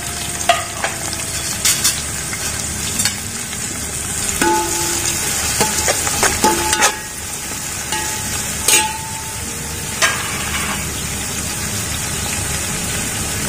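Onions frying in a hot pan for semiya biryani, with a steady broadband sizzle and crackle and scattered clinks and scrapes of a spoon stirring, close and continuous throughout.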